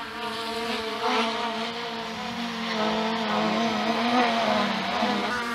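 The motors of a DJI Air drone spin up and hold a steady, close, tonal whir with a layered propeller hum that swells slightly over several seconds.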